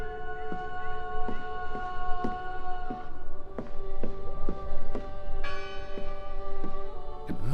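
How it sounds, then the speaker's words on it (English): Church bell tolling in the video game Draugen, repeated ringing strikes with long lingering tones, moderately loud and unaccompanied by talk. "It must be her ringing the bell."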